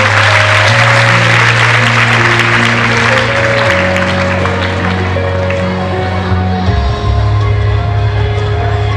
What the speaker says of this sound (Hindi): मेरे ख्याल में तालियां रुकनी नहीं चाहिए